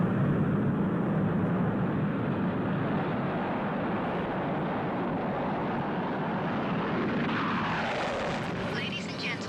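Steady, loud roar of a jet airliner, heard as continuous broadband engine and cabin noise throughout, easing slightly at the end as it approaches San Francisco International Airport.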